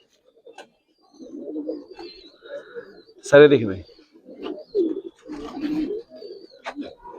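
Giribaz and coloured pigeons coo softly in short, repeated phrases while someone talks over them nearby.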